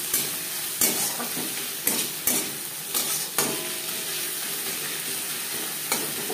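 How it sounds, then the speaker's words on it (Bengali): Ginger and green chilli paste is stirred in a frying pan, with a steady sizzle broken by several sharp scrapes and knocks of the spoon against the pan, close and alone. "কাঁচা গন্ধ যাওয়া পর্যন্ত নাড়াচাড়া করে দেব।"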